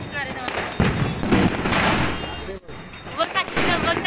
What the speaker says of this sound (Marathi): असे मुलं फटाके वाजवतात ते.